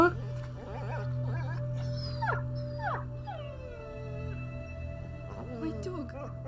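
A dog in the video game A Plague Tale: Innocence whimpers and yips in several short, rising and falling cries over a steady low drone, with someone talking at times.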